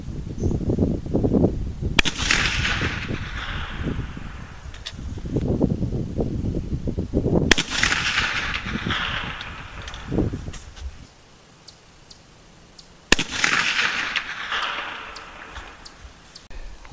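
AK rifle firing cast 160-grain spitzer bullets at a 400-yard target: three sharp, loud outdoor shots a few seconds apart, each trailing a rolling echo, with wind and rustling between them.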